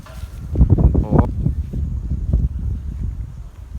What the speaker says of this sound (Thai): ลมแรงมากเลยนะครับเพื่อนๆแรงจนแบบว่าบินไม่ได้อะ